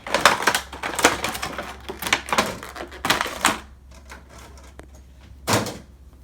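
Paper is pulled out of a NECA Shin Godzilla toy box, a series of close crinkling, rustling bursts followed by a quieter pause and one last loud rustle.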